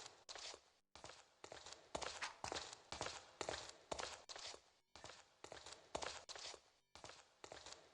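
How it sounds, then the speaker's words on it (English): Footsteps in the video game Stonekeep fall in a steady, rhythmic series of crunchy, uniform steps, roughly one cluster per second, with no other sounds around them. "So now it's complete silence with the footstep sounds."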